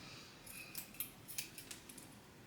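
Small scissors snip at a zipper pull, a quick series of faint, crisp metallic clicks and snips in a quiet room.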